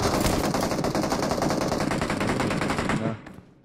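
Sustained rapid automatic gunfire in a video game, dense continuous bursts at close range for about three seconds before cutting off and fading to quiet.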